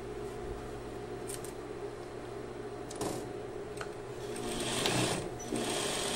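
A sewing machine with a size 14 needle stitches a hem on jeans, running with a steady close mechanical whir that builds louder toward the end, briefly broken by a few small clicks.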